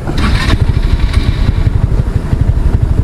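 An Easyride 150 motorcycle engine idles around 1,000 to 1,500 RPM, a steady close low chugging with a brief higher rev near the start; the bike is hard-starting and tends to stall when warming up.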